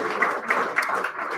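An audience at a live event applauds, a dense, steady wash of many hands clapping together from the room, moderately loud and unbroken throughout.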